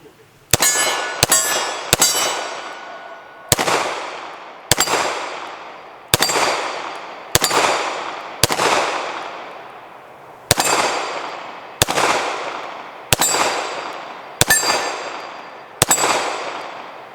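An original Browning Hi Power pistol fires about a dozen sharp, loud shots, first a quick cluster and then a steady run, each crack followed by a ringing echo that fades before the next.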